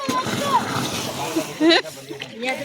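Water is poured and splashes at the Sakrebailu elephant camp in Shivamogga district, with short sloshing bursts heard under people talking nearby.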